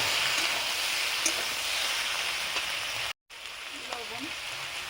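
Chopped ripe and half-ripe tomatoes hit hot oil in a frying pan, giving a faint, continuous hiss and crackle like light rain, with one brief dropout partway through.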